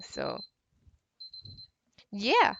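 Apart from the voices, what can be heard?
alarm going off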